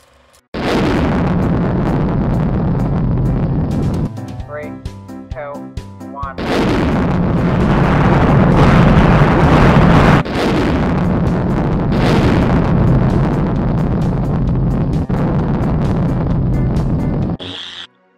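A game rocket launch and explosion: a loud, sustained roaring rumble that runs most of the time, with a brief break in the middle, then a sudden cutoff at the end.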